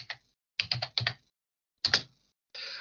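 Short bursts of keystrokes on a computer keyboard while entering a text prompt, three quick clusters of clicks separated by pauses, close and clear in a quiet room.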